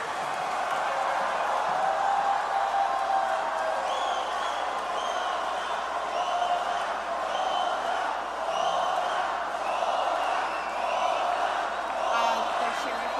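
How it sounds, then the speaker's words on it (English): A concert audience in a Mexico City theatre cheers for the drummer of a rock band, a steady, dense roar of crowd noise with scattered whoops and high shouts rising above it throughout. "They're cheering for the drummer."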